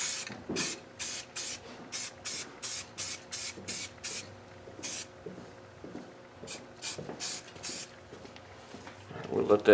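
Spray paint hisses in short, rapid, even bursts onto freshly welded steel mounting plates on a 2010 International 4300 truck's C-channel frame, close and fairly quiet, with faint rattling between passes.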